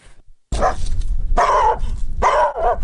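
A small Jack Russell Terrier barks close by in three short, sharp bursts separated by brief pauses, loud and clear with no talking.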